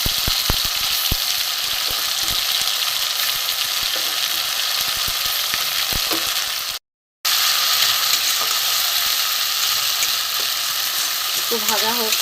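A paste of tomato, onion, garlic and ginger sizzles steadily in a pan for a fish-roe omelette curry, with a constant loud frying hiss and occasional scraping clicks of stirring, broken by one brief gap.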